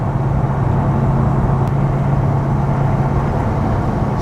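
Ultima RS sports car with a V8 engine on the road, a loud steady engine drone and low rumble heard from inside the car, with no talking.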